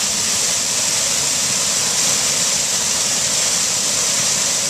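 Water rushing through an irrigation system fed by a pump, split between two zones at once, a steady loud hiss of flow with no pauses.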